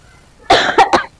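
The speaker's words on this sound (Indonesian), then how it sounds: "aduh, maaf lagi batuk ibunya." A woman lets out three quick coughs in a row, loud and close, with a short silence before them and no talk over them.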